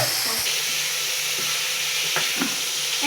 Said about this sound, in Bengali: এখন আমরা আমাদের নুডলস দিয়ে দিব, সিদ্ধ করা নুডলস